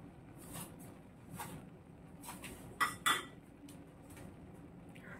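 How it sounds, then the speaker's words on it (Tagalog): Pistachio pesto sauce going into pasta in a pan, faint scraping and stirring with a couple of sharp metallic clinks of a utensil against the pan, quiet and close, no talking. "Ilagay na natin yung sauce, yung pistachio pesto pasta sauce."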